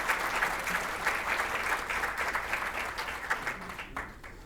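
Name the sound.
audience applause welcoming a speaker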